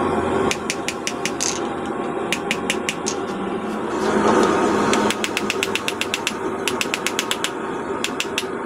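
Sharp metallic hammer strikes on steel ring out in quick rhythmic bursts while forging a rivet hammer, pausing briefly between runs, over a constant background hum.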